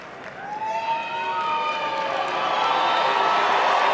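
A large arena crowd at the 2018 Westminster Dog Show Best in Show ceremony cheers and chants, a dense, steady roar that swells and grows louder across the few seconds.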